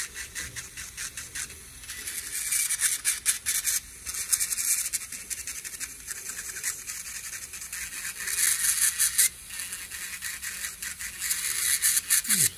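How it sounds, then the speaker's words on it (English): A rotary grinder files down a thick, long diabetic toenail, a continuous close whirring, rasping buzz that rises and dips as pressure changes, with no talk. "So for this nail, I'm just grinding it down as much as I can, because I don't want to make it bleed here."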